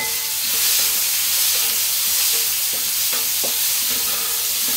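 Meat frying in a hot pan with chili for pakbet, a steady loud sizzle running through the whole stretch, with occasional stirring clicks of a utensil against the pan.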